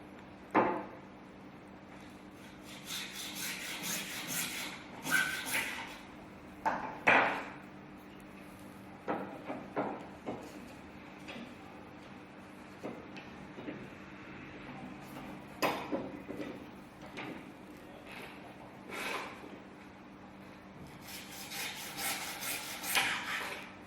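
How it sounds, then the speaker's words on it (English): A fine-toothed junior hacksaw cuts away waste material in a hand-tool workshop, heard as quiet, irregular bursts of rasping strokes separated by pauses. "To cut the waste, I'm going to use a junior hacksaw"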